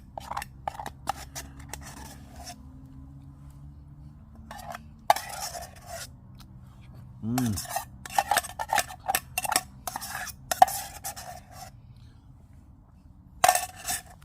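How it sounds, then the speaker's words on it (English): Metal utensil scraping and clinking against a camping pan to free stuck-on food, in short bursts of scratchy scrapes and taps separated by quiet pauses, close and fairly soft. "Let's get the bit off that's stuck in the pan section."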